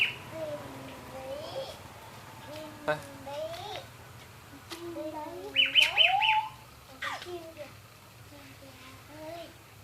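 Birds chirp outdoors in a garden while children and an adult talk and babble nearby. Short tweets are scattered under the voices, with a brighter burst of repeated high chirps partway through.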